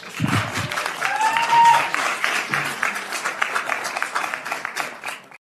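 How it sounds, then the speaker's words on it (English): Audience applause from a studio crowd, a steady clapping wash with cheers lasting several seconds, a voice audible at the start before the sound cuts off abruptly. "Applause"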